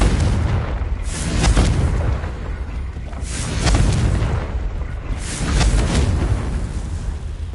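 Confringo spell blasts in the video game Hogwarts Legacy, three deep booming explosions at regular intervals with rumbling tails, loud and close, no voices.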